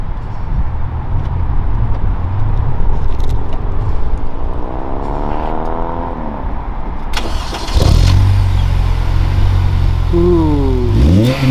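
Honda Civic Si fitted with an HKS exhaust cold starts, opening on a loud idle that rises in pitch and then drops, then a sharper burst partway through into a louder, deeper exhaust note with brief revs near the end.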